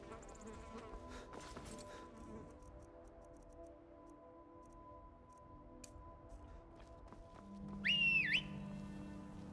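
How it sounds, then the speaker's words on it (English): Horse-summoning whistle in Skyrim: a short, bright rising-and-falling whistle near the end of a quiet stretch of faint game ambience and soft ticks. "Horse whistled."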